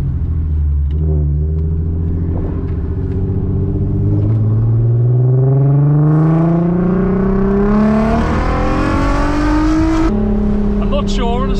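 Volkswagen R36 estate with a straight-pipe exhaust revving hard in sport mode, a loud deep engine note climbing steadily in pitch through rising sweeps, close to the car with no talking.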